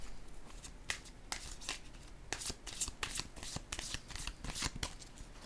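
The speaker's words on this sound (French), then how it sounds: "Je vais déposer une carte rose ici." Cards are handled and laid down on a tabletop in a run of crisp, close slaps and flicks, irregular but steady throughout with no talking.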